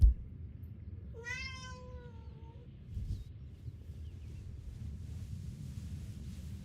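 A cat gives a single clear meow, rising and then falling over about a second and a half, against a low rumbling outdoor background with wind noise on the microphone.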